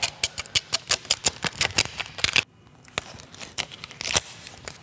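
Excess Hexis Skintac vinyl wrap film peeled away from a white car's A-pillar: a close run of dry crackling, tearing bursts with a brief quiet gap midway, then more crinkling pulls.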